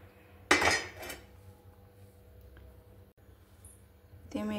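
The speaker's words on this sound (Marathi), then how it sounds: "गॅसवर तवा ठेवूया।" A metal tawa griddle is set down on a gas stove with a sharp clank and a following rattle, then a quieter kitchen lull before another metallic clatter.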